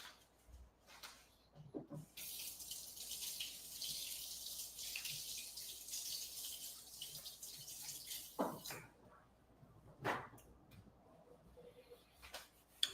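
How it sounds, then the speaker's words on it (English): Tap water runs in a kitchen for several seconds as hands are washed, with a steady splashing hiss broken by a few clicks and knocks of handling. "Let me wash my hands."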